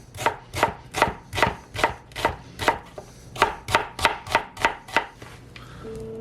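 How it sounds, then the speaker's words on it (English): A knife cuts through and slices on a cutting board in a run of about fourteen sharp, evenly spaced chops, close and loud, with no talking. "I'm going to cut it in half and then slice it."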